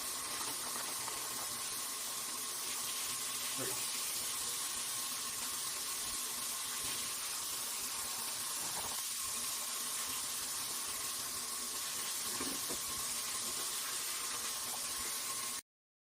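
Water runs steadily from a tap into a sink, filling it to wash eggs, a continuous soft rushing with a few faint clinks, no talking.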